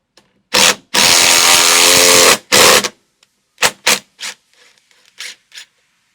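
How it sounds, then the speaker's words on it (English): An impact driver with a 13mm socket turns a bolt head to compress a rivet nut inside a Kawasaki Ridge roll cage, heard as loud close bursts of whirring and hammering, one long and several short, separated by silence. "we'll turn this bolt head using a 13mm socket and an impact"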